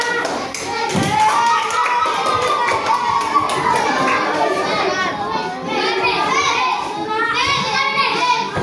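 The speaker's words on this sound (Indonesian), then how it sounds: "Tepuk tangan untuk kelompok mereka." Classroom of children clapping for a group of classmates, a lively burst of hand claps mixed with constant chatter and excited voices from the kids, close and busy throughout.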